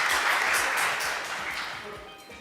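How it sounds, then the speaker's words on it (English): An audience at an annual debate applauds the debaters, a full burst of clapping that starts strong and gradually fades, with faint voices mixed in. "I would like more louder rounds of applause for our fellow debaters, please."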